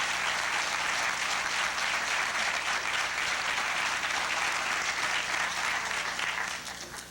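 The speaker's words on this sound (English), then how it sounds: "Let us give them another round of applause for the extraordinary performance" Sustained audience applause after a live musical performance at a lecture event, a dense steady wash of clapping from a large crowd that holds at full strength and then begins to thin in the final second.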